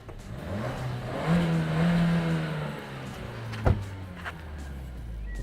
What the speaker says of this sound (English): This car's supposed to have a sports exhaust, but it doesn't really sound very sporty. Yeah, you want to hear it, don't you, revving?